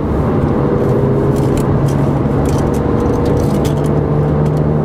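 A Porsche 997 Mk1 with a sport exhaust cruising steadily at speed in sixth gear on a motorway, its engine a constant deep drone with road rumble, loud and close throughout without passing or revving.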